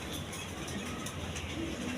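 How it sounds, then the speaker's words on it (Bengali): Soft, low cooing from pigeons at a farm where high-flying Giribaz pigeons are kept, faint and close against a steady background hiss, with a couple of brief murmuring calls. "এখানে এক পেয়ার কবুতর আছে, আপনার দেখেন হাই ফ্লাইং গিরিবাজ কবুতর"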